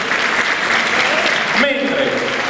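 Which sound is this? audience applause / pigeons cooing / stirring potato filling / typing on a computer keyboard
audience applause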